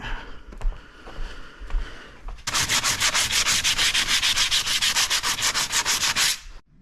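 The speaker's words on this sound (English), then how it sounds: "just after doing a bit of sanding" A few faint scrapes give way to rapid back-and-forth sanding strokes on a kayak hull, loud and rhythmic for several seconds before stopping abruptly.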